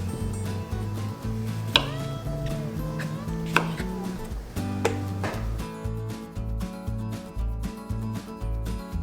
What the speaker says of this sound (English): I'm just gonna chop up my cucumbers.